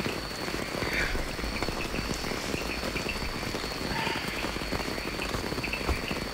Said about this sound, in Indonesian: Ya, kondisinya hujan.